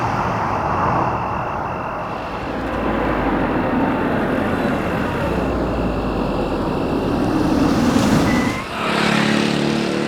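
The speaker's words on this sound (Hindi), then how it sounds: "आ गई हसीना जी की गाड़ी" A car pulls up on a road, its engine and tyre rumble building to a loud, steady roar for several seconds before briefly dipping near the end; no one speaks.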